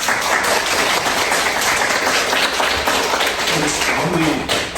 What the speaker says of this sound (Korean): 이렇게 박수 한번.